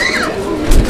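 Fancy Indonesian pigeons in a pigeon keeper's collection give a brief soft coo, close by, with faint voices in the background.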